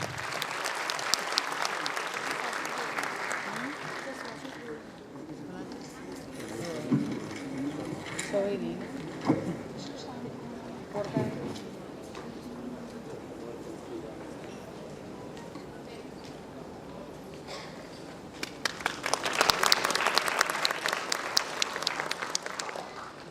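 A convocation-ceremony audience at a medical sciences institute applauds loudly at first, fades under a speaking voice and scattered noise, then bursts into a strong second round of clapping near the end.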